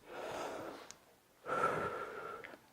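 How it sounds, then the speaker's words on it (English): Deep breaths during a home fat-loss workout, heard as two long, close, audible breathing passes, an inhale and an exhale, each lasting about a second, with a short pause between them and no speech. "6 deep breaths, guys."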